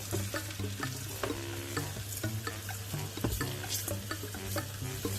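A Sri Lankan eggplant curry with chili, spices and salt being stirred in a hot pan, a continuous sizzle of frying under repeated scraping strokes of a spoon, close and fairly loud, with no one talking.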